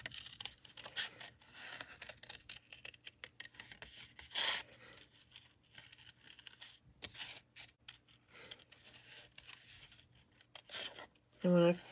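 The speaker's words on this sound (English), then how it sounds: "I am turning my paper and not my scissors. Just makes for a better cut." Scissors snip through paper in short, irregular crisp cuts, close by, with brief pauses between strokes and a louder snip near the end; the paper is turned rather than the scissors.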